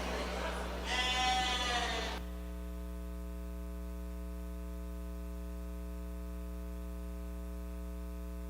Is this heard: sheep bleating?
yes